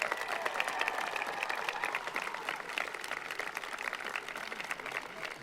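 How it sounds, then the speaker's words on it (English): Sustained audience applause fills a high school graduation ceremony, a dense steady crowd clapping that holds for several seconds with faint voices mixed in. "Let's give them a round of applause, guys."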